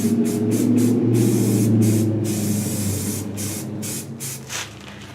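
Edge primer sprayed onto a new Cherokee bumper from a leaky nozzle, a loud steady aerosol hiss broken into short bursts toward the end, close up with no voices.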